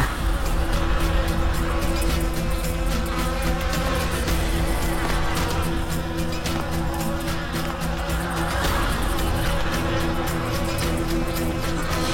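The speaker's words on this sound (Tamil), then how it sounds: "தேனீக்களா?" Dense, continuous buzzing of bees, a loud steady hum that fills the whole stretch without pause.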